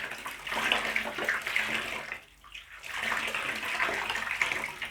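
Running water rinses Florida banana plant tissue, a close, splashing gush that briefly dips and then resumes at full flow.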